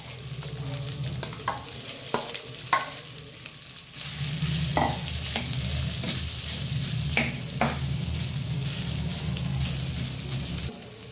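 Boiled potatoes fry in hot oil with cumin in a kadai, giving a continuous close sizzle. A spoon stirs through them with repeated scraping and metallic clinks, and the frying grows louder midway.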